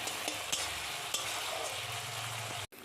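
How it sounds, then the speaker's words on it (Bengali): Onion, ginger-garlic paste and chopped tomatoes sauté in a pan, a steady close sizzle with occasional spoon scrapes and stirs, cutting out briefly just before the end. "এবার কষিয়ে নিতে হবে।"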